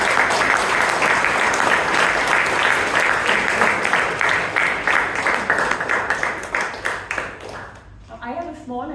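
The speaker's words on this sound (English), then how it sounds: "Can we once again have a big round of applause for all the role takers?" Audience applause for the role takers at a Valentine's Day themed Toastmasters club meeting in Bangalore, a dense, steady clapping that fills the room for most of the span, then thins as a voice begins near the end.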